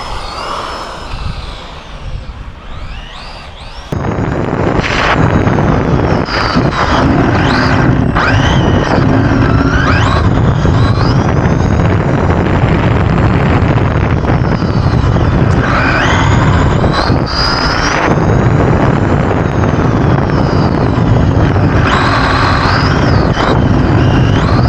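A Traxxas Mini Slash RC car drives with a high, whining electric motor that rises and falls in pitch as it accelerates and turns, loud and close after a quieter opening few seconds.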